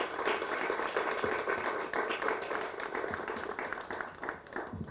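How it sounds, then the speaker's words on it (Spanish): Audience applause at a school ceremony inaugurating a new wing of the Instituto Nacional in Ciudad Arce: a dense, steady wash of many hands clapping that holds for the whole stretch. "Un aplauso muy fuerte para ellos."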